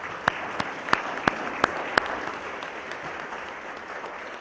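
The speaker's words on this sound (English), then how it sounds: "I think you deserve a good round of applause for the umpires." At a 2014 USSSA Hall of Fame induction, a few sharp handclaps ring out for the umpires. About six evenly spaced claps sound faint and sparse against a quiet room, then stop.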